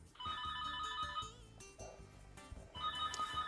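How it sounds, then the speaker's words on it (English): A telephone ringtone plays in a loud, repeating melodic pattern under a continuous musical backdrop, with a brief gap in the middle and no talk. "We don't answer the fucking phone."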